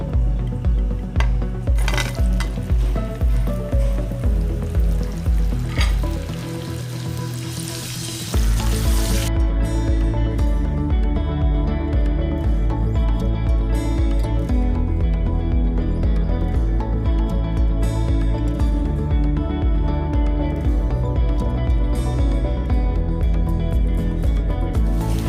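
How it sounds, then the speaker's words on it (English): Potatoes fry in hot mustard oil with turmeric for dum aloo, a steady close sizzle throughout, with a brief lull and a louder burst of crackling partway as they are added and stirred, and occasional light scraping clicks of a utensil against the pan. "So now I'm going to add in the potatoes and I'm going to fry them for a while."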